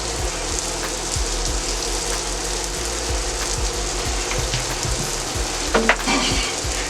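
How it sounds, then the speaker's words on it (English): Onions and mixed vegetables sizzle steadily on a Steelmade griddle while a Chicken Philly cheesesteak is cooked. A dense, continuous frying hiss fills the clip, with a few soft scraping knocks and one louder clatter near the end. "Alright, so my vegetables are cooking up nice."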